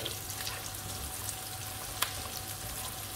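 Shallots frying in a pan for ginisang kangkong give a soft, steady sizzle close by, with a faint hum underneath and one brief clink near the middle. No voices.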